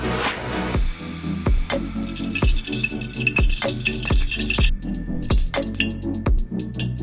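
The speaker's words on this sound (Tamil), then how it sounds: "இப்ப எண்ணெய் ஊத்திக்கலாம்." Cooking oil pours into a hot pressure cooker on a gas stove, a steady liquid trickle with repeated sharp tapping knocks at a regular rhythm, close and fairly loud, no talking.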